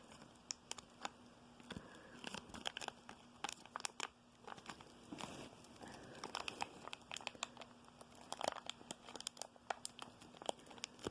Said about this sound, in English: you're going to go underneath the flap and cut a few little slits